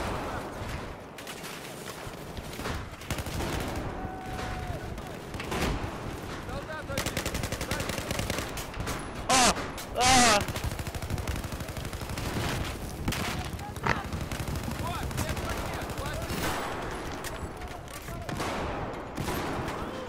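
Sustained gunfire in the video game Battlefield 4, dense bursts of automatic weapons and sharp shots through a prolonged firefight while pinned down, with someone talking over the battle noise.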